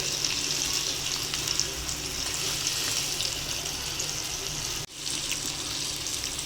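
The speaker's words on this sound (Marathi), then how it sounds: "बांगडा मस्त फ्राय होतोय." Fresh mackerel (bangda) fish frying in a pan gives a steady, close, hissing sizzle that runs unbroken, with one brief dip before it resumes.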